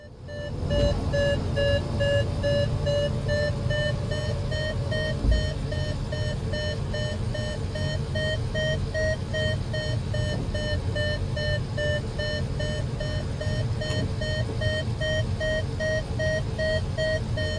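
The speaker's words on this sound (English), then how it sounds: "So here the beeping getting louder and louder." Glider variometer in Microsoft Flight Simulator 2024: a steady, continuous electronic tone with stacked harmonics that rises slightly in pitch over time, over a constant low rumble of wind and airflow.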